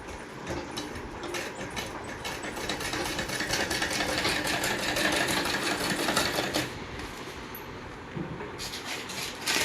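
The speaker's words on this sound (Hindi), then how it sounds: "देखिए पहले इस पर हम लगा देंगे कच्ची सिलाई इस तरह से" A sewing machine runs a basting stitch on fabric, a fast continuous mechanical whir lasting several seconds, then a brief pause before the motor starts again, close and loud.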